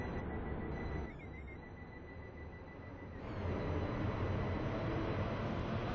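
A continuous rumbling roar of a train running on rails as it arrives at a station in a Roblox game, dipping briefly then swelling louder, with a thin high whine riding above it.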